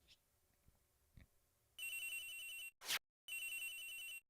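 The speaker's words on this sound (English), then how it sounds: "Agent Hicks's phone! It's ringing from somewhere, sir!" A mobile phone rings in the DS game Ace Attorney Investigations: Edgeworth: a bright electronic ringtone that cuts in after a quiet stretch, breaks off briefly with a short burst, then repeats, loud and alone.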